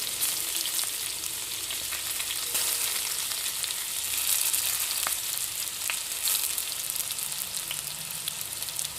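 Tomatoes and turmeric sizzle steadily in hot oil while being stirred for murmura poha, a continuous close frying hiss with a few faint clicks of the spoon and no voices.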